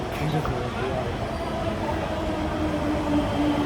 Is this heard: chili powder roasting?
no